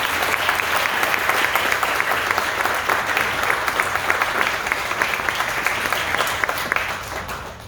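Warm, sustained applause from a large indoor audience welcoming a speaker to the stage, dense and steady clapping close to the microphone that tapers off toward the end.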